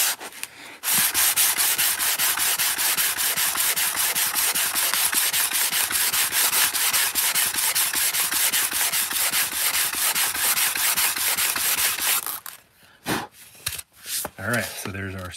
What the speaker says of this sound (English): I'm just going to get some rubber sanding block with 120 grit sandpaper on it